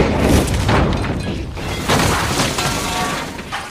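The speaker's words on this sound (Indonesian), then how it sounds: "bom itu akhirnya meledak" A homemade bomb of small explosive scale detonates in a film, giving a loud, sustained, broadband roar and rumble that fills the whole stretch with no speech.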